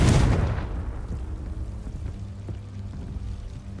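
A Confringo fire spell blast in the Hogwarts Legacy video game bursts loudly at the start, then fades into a low rumbling tail with scattered crackles and no voices.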